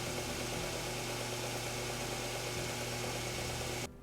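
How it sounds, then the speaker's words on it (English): A disc sander runs steadily as a wood piece is sanded to a 30-degree bevel against a miter gauge set at 30 degrees, a constant loud motor hum that cuts off sharply near the end. "I set my disc sander at a 30-degree bevel and my miter gauge at 30 degrees and simply sanded until I reached the miter angle"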